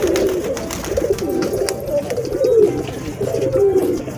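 Pigeons coo softly and repeatedly close by while bathing, their low throaty calls rising and falling in a steady rhythm.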